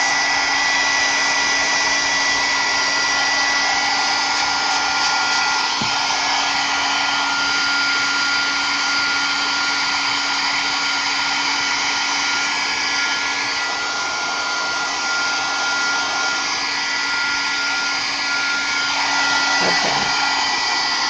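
A handheld heat dryer blows steadily for a long stretch while drying paint on a colorful journal, a loud continuous whooshing drone that dips slightly midway and carries on with only faint handling noises.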